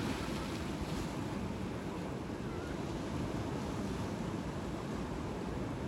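Ocean waves break at Sharkey's Beach in a continuous, washing roar of surf mixed with wind buffeting the microphone, steady and fairly distant with no voices.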